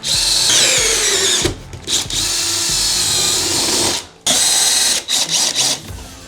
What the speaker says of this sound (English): So now I'm going to be drilling in my holes for the plus nuts, and I'm using a 3/8 inch